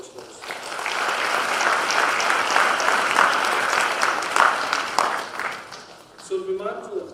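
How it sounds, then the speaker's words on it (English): Audience applause fills a hall at a university athletics awards show, rising quickly into sustained clapping, then tapering off as a voice begins speaking near the end. "let's say give a round of applause to all of those folks"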